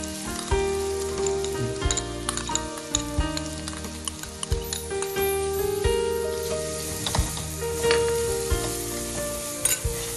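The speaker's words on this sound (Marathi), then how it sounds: "2 कांदे आपण इथे घेतलेले आहेत, बारीक चिरून घ्यायचे आहेत आणि ते तेलामध्ये आपण व्यवस्थित परतून घेणार आहोत" Finely chopped onions, about two, fry in hot oil with a continuous loud sizzle and crackle, stirred now and then with short scrapes and clinks of a utensil in the pan, while background music plays.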